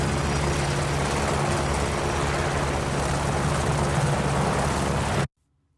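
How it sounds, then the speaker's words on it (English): A helicopter idles while stationary, heard from medium distance as a steady, dense mechanical drone with a constant low hum, unbroken until it cuts off abruptly near the end. "Here's a stationary idle recording from a helicopter recorded at medium distance."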